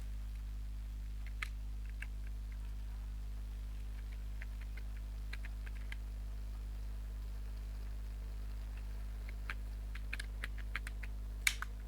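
Sparse keystrokes on a computer keyboard as a keyword is typed for SEO research, scattered faint clicks in short bursts over a steady low electrical hum, with no talking.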